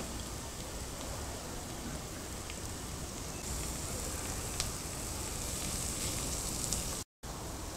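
Onion sizzles and fries in a hot pan, a steady, close crackle like light rain with no break, briefly cutting out near the end.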